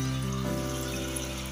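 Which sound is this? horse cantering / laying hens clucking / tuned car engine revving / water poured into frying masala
water poured into frying masala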